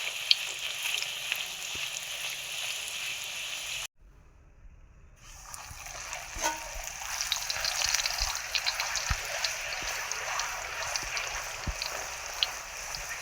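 Puri dough sizzles and crackles in very hot oil, a soft, steady frying hiss broken by a brief pause before the bubbling picks up again, heard up close without talking.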